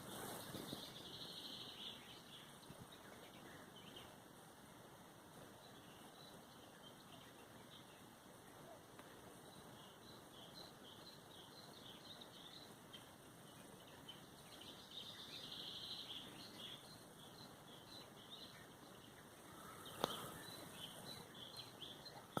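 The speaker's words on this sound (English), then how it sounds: "I've been woken up by the extraordinary array of bird sounds" Dense dawn chorus at a campsite, many birds chirping and calling continuously from various distances, high-pitched overlapping twitters over a soft steady background hiss, with a brief louder knock near the end.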